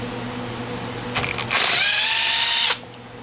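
A power driver whirs briefly, then spins at a steady high whine for about a second to back screws out of a handheld leaf blower's carburetor housing, close and loud, then stops abruptly.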